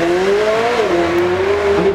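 A supercar at a supercar weekend at Beaulieu runs past fast, its engine note rising and shifting loudly and continuously over a short burst.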